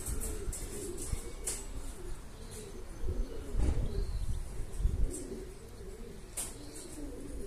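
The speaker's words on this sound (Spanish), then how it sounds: "La paloma anda por aquí ya." Veleño pigeons coo in low, repeated throaty calls, with a few faint chirps and a soft outdoor background between them.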